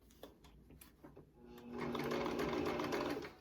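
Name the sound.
sewing machine stitching fabric face mask corners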